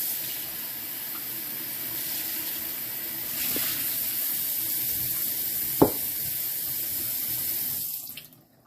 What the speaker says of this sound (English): Just finishing up rinsing off the egg.